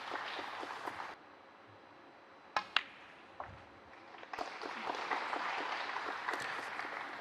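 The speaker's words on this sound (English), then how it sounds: "A round of applause, but not his best." Applause from the crowd at a snooker match, the World Grand Prix: scattered clapping at moderate volume, a short lull with a few sharp knocks, then clapping picks up again and keeps going.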